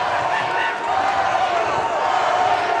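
A crowd roars in support of a fighter at a cage fighting event in a fieldhouse, a loud sustained wall of cheering that swells slightly and continues without a break.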